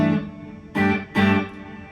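Two loud, sustained distorted electric guitar chords on the neck pickup, a Seymour Duncan YJM Fury, ring out thick and buzzy with rich overtones, separated by a short gap.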